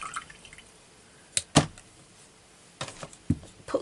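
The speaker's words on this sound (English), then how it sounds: "I think I will wash my brush off" An acrylic paintbrush is rinsed in a water pot, producing a few short, soft splashing swishes spaced apart against a quiet background.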